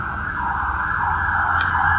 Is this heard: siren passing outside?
yes